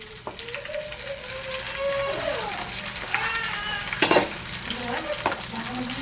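Stuffed brinjals sizzle in masala with ginger and turmeric in a pan, a steady close frying hiss with scattered sharp pops and stirring clinks, alone without talk.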